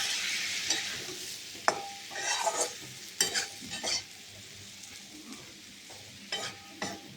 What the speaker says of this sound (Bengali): সামান্য জল দিয়ে এবার একটু মশলাটাকে ভালো করে কষিয়ে নেব।